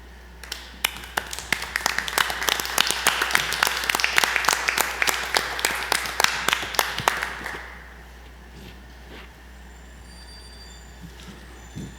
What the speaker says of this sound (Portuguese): Peço a todos uma salva de palmas ao Pavilhão Nacional.